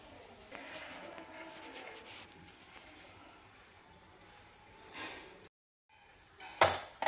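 After a quiet stretch in a home kitchen, a spoon gives a few sharp clinks against an iron wok as oil is added.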